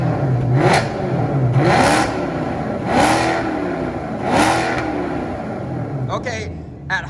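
A Maserati GranTurismo S exhaust revs repeatedly to high rpm, each surge swelling and falling back in a regular cycle, with someone talking over it.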